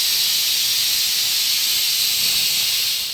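Bay leaves and a piece of cinnamon sizzle in plenty of hot oil in a pan, with a loud, steady, close hiss that keeps going without a break and with no talking.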